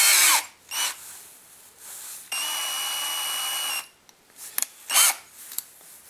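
A power drill fitted with a regular drill bit whines in short bursts and one sustained run of about a second and a half, close and loud, with quiet gaps and faint handling noises between.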